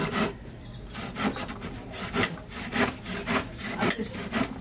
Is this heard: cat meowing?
no